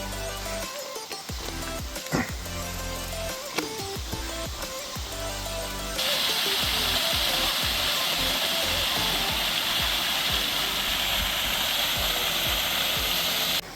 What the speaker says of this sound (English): Looks like waterfall 1 out of 13.